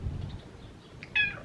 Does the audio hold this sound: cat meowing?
yes